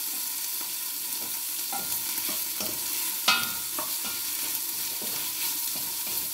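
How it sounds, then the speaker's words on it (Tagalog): Chicken gizzards browning in a hot pan with oil, a steady sizzle broken by regular scraping stirs and one sharper clatter midway, close and continuous with no talking. "Ibabrown na natin ang balunan"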